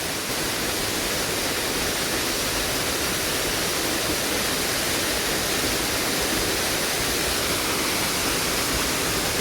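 At Mamala Falls in Sariaya, Quezon Province, a strong waterfall current roars with a loud, continuous broadband rush that stays steady throughout, with no voices.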